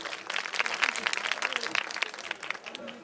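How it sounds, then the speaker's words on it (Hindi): Crowd at a Hindi poetry gathering clapping in a lively, uneven burst of many hands that rises and then thins out over a few seconds. "आप अगर मुझे शुरू करना चाहते हो तो एक बार ताली बजा दो"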